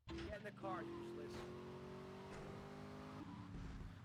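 A car drives in the video game GTA Vice City with a sustained engine drone that climbs in pitch as it accelerates, and a brief tire screech near the start.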